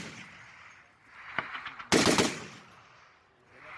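A machine gun fires on a military shooting range where French Foreign Legion gunners train: a single sharp shot, then a loud rapid burst, with reverberating outdoor echo fading afterward.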